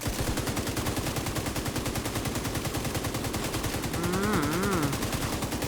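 Rapid, evenly spaced automatic gunfire in The Division 2 rattles on continuously and loudly, with a brief warbling game tone near the end.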